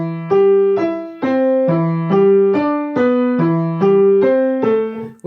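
Short two-note piano phrases from a Kabalevsky exercise, played without lifting so the notes run together and blur into one another, in an even flowing pattern, close and clear, ending with a fading note.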